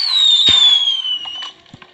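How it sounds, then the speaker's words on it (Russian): A high whistling firework in Minecraft Pocket Edition streaks and fades, followed by several sharp pops and crackling bursts at a moderate distance. "вообще крутые фейерверки"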